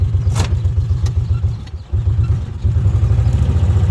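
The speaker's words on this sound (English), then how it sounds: "As you can hear, it's idling pretty nicely." A Kawasaki Mule utility vehicle engine idles steadily up close, a low rhythmic chug that runs continuously with a brief dip partway through.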